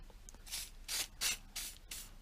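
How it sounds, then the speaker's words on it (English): Penetrating lubricant sprayed from a trigger can onto engine valves of a Clio 182 Cup in a workshop, four or five short, loud hissing bursts separated by brief pauses, with no talking. "penetrating spray stuff, lubricant. Now I'm doing the talking now before I pull the trigger because obviously there's noise."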